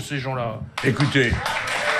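An audience claps and cheers, a broad rush of applause rising behind a voice as he keeps talking over it.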